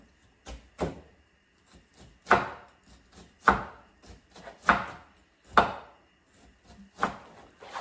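A knife chops pickled cabbage on a cutting board in a home kitchen, landing in sharp, uneven knocks roughly once a second, with quieter taps in between, close and clear with no talking.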